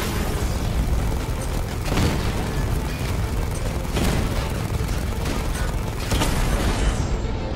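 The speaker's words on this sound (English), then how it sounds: "Oh, they're shooting." Tanks fire in the Batman Arkham Knight video game, with repeated heavy booms bursting through a dense, continuous roar of battle noise.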